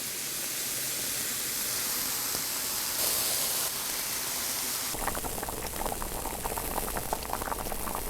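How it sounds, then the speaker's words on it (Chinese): A pot of fish head broth boils hard, a loud dense bubbling roar that rises further partway through, steady and close with no voices. "鱼头煎得差不多了，倒开水进去，这样子那个汤熬起要鲜一些"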